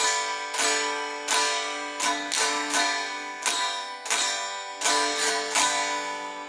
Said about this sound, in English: here's a demonstration of what it sounds like when people are doing a bit of a heavy-handed strum